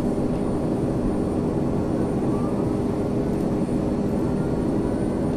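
Jet engine of a Boeing 767-300ER in FSX spooling up, a steady broadband roar with a low rumbling hum that holds constant throughout, fairly loud and with no talk over it.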